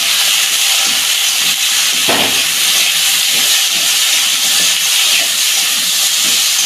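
Vegetables fry with salt and turmeric for Bengali khichuri, a loud continuous hiss of oil and steam with a brief scraping knock near the middle.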